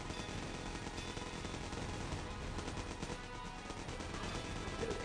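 Small guns fire in the block-building strategy game Block Fortress, producing dense rapid bursts of faint, crackling gunfire that continue without a break and are mixed low in the game audio.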